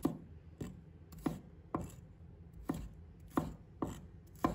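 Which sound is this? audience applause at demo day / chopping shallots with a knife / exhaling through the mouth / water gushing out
chopping shallots with a knife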